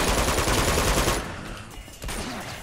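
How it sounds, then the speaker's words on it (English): Gunfire in the video game Uncharted 2: Among Thieves, a dense, loud burst of rapid shots and blasts that then drops to quieter combat noise with a renewed surge at the end. "Oh, that's a shotgun, guys."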